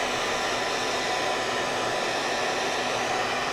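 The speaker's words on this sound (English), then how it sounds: "I put the dryer over here on this side" A hair dryer blows continuously nearby while ribbon is crinkled for junk journal crafting, a steady, loud airy whir with no change in pitch and no talking.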